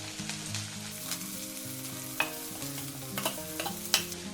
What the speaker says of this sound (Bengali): তেলের মধ্যে প্রথমে দিয়ে দেবো রসুন কোটা তারপরে দিয়ে দেবো আদা আর দিয়ে দেবো পেঁয়াজ